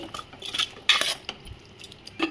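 A utensil scraping and clinking against a cooking pot as chicken sharva is stirred, a few sharp metallic knocks and scrapes, close and fairly quiet, with a faint background hiss.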